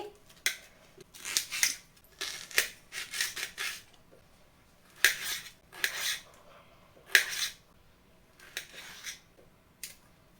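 A knife cutting onion and tomato into large pieces for a small-fish curry, with about a dozen uneven, crisp chopping and slicing strokes close by, separated by short pauses and no voices.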